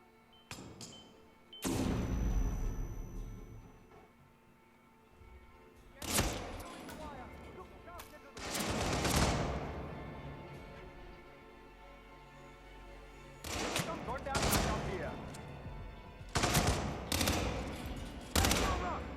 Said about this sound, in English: I've only got 28 bullets left, but it's okay because I hit with every single bullet.